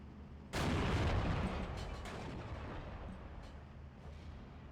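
An artillery barrage in the strategy game Steel Division II opens with a sudden loud boom, followed by a long rumbling roll of overlapping distant blasts that slowly fades, with a few scattered impacts crackling afterward.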